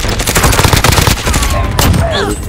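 Dense rapid gunfire from a Warzone match, loud and close, with bursts of automatic fire layered over each other and a voice cutting in near the end.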